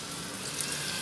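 Water pours steadily into a cooking pan holding coriander powder, chili flakes and red chili, a continuous close splashing rush with no talk.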